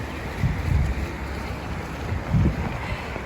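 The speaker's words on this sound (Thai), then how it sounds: "ลมแรงมากเลยค่ะ" Strong wind buffets an outdoor microphone in heavy, low rumbling gusts, swelling loudest near the start and again toward the end, with no voices.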